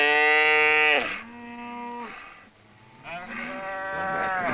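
Bull calves on an Arizona Strip ranch moo loudly in long, harmonic bawls, one drawn-out call followed by a quieter dip and then a second rising bellow, close and alone.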